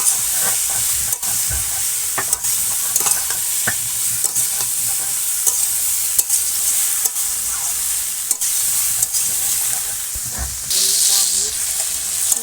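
Water lily stems being stirred in a pan with a hilsa fish head, a steady close sizzle broken by repeated scraping stirs and clacks of the spoon throughout.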